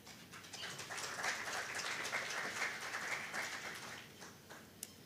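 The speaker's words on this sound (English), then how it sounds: "Another round of applause." Conference audience at a sustainable energy week event gives a round of applause, dense steady clapping that swells and then tapers, heard fairly distant with no talk.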